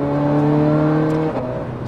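A Ferrari 430 Scuderia, a road-going racing car with a dog-box-like gearbox, drones steadily under load before a quick gear change breaks the engine note partway through, then pulls on at a slightly lower pitch, close and loud.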